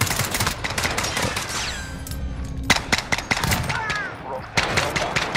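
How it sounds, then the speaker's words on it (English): Rapid shotgun and other gunfire crack through a video game firefight, dense repeated bursts with clangs and effects, loud and close throughout. "good thing I picked up this shotgun, Richard."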